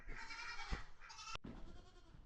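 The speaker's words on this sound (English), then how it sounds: "goats are thanking Tristan properly by eating his pants" Goats bleat near and far in a barn, overlapping one another, with rustling in the background and a short sharp knock partway through.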